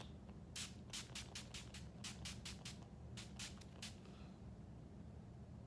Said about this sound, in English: setting it with NYX Dewy Finish Setting Spray from a distance